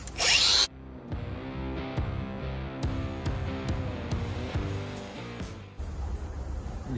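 A power tool grinds steadily during Volvo car repair work on a tight stub axle nut, a continuous close whine with occasional sharp bursts, preceded and followed by louder engine-like noise.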